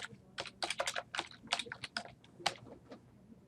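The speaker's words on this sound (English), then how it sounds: "You can do it directly to the form by simply clicking on the field and typing your data." Rapid, irregular keystrokes on a computer keyboard while entering data into form fields, close and fairly quiet, in short bursts with brief pauses and no talking.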